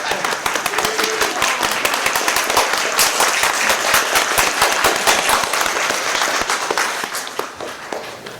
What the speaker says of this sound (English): clap for my mom